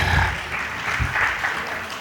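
An audience claps continuously through a Hindi religious sermon in Jabalpur, a steady, fairly loud wash of applause lasting about two seconds with no voices.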